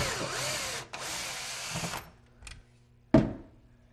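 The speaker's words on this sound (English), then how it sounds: "What you're going to do is back the wall screw out," A power drill backs a screw out of a wall behind a garage cabinet, two short whirring bursts up close, followed by faint handling and a sharp knock.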